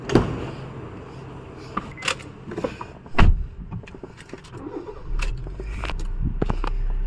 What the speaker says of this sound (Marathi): मी इकडे गाडी आणतो